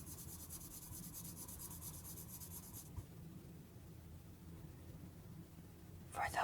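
An alcohol-based marker scratches and rubs across paper in short, quiet strokes, a faint dry squeaky coloring sound that pauses midway before a brief louder scrape at the end.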